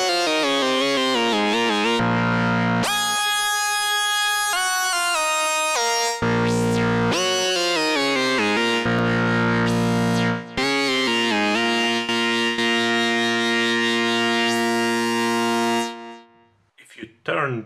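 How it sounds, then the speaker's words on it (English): A Waldorf Rocket synthesizer plays a buzzy, detuned lead line, doubled with an interval detune. Sustained notes shift in pitch across a melodic phrase, loud and close, and stop at the end. "If you use doubled so with an interval detune, you can achieve another quite interesting leadish sound."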